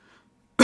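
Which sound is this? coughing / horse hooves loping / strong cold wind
coughing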